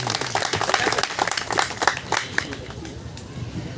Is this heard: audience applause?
yes